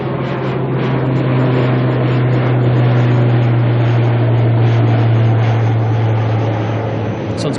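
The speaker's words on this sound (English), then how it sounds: "we've got this ATR already coming over us" An ATR turboprop airliner passes overhead at Auckland Airport, a loud, sustained droning engine and propeller roar with a steady low hum that holds throughout before easing slightly at the end.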